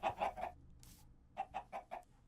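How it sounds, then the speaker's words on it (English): Chickens in a video game clucking in quick bursts, three sharp clucks, a brief gap, then four more at an even pace, near and fairly quiet. "There's chickens. I can hear them everywhere."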